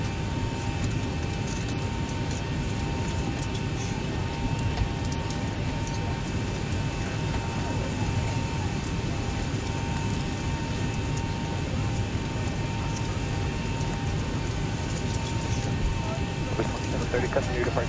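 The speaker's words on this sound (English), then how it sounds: "going to go ahead and power up the APU" An airliner's APU powers up in the X-Plane 12 flight simulator, a loud, steady turbine hum with a constant whine held throughout, as a voice talks over it.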